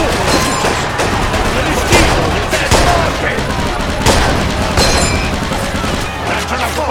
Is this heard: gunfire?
yes